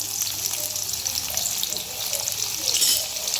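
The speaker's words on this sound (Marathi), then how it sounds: "जिरं तडतडून झालं की ह्याच्यामध्ये आपण ठेचून घेतलेला लसूण घालूया." Crushed garlic frying in oil in an iron kadai, a steady close hiss and sizzle running through the whole short stretch with no talking.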